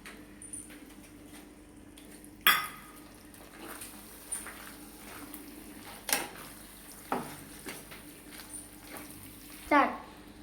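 Pasta fries in a pan with soy sauce, a low constant sizzle running under the scrape and clatter of a stirring spoon against the pan, with occasional sharp knocks.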